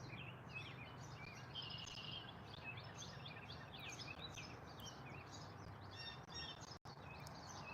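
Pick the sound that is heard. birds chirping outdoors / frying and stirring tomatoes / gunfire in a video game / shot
birds chirping outdoors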